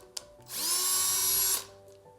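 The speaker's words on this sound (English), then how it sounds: "So then I rotate the pumpkin and drill another hole" A power drill bores a hole into a pumpkin in one loud, steady burst of about a second, with a high whine that rises as the motor spins up and drops off as it stops, quiet before and after.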